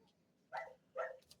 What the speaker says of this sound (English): Let me see if I can get him to quit barking.